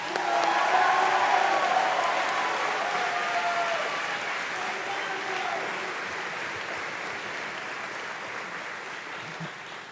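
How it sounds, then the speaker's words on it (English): An audience at a commencement ceremony breaks into sustained applause, a dense wash of clapping that starts loud and slowly thins over about ten seconds, with a few voices faintly under it. "Please give a thunderous round of applause for this year's salutatorian, Harsh Tandon."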